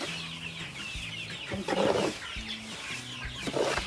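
Black-tailed Pradu Hang Dam KKU55 chickens cluck at feeding time on a farm, a close chorus of repeated clucks with a few louder squawks and rustling movement.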